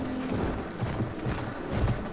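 Horse hooves clip-clop in a steady trotting rhythm in a western shooter video game, set over a constant background ambience.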